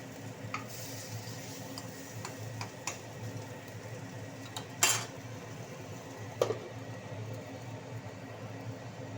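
Oats pithas being flipped one by one in a pan, then a lid set on top: quiet clinks of a utensil against the pan, with two sharper metallic clatters as the lid goes on, over faint background hum.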